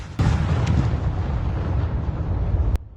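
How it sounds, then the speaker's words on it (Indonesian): Military disposal detonation of unusable ammunition in Garut, a heavy deep boom with a sharp onset followed by a sustained rumbling roar that cuts off abruptly, loud and without voices. "Ledakan itu terjadi saat kegiatan pemusnahan amunisi tidak layak pakai oleh militer."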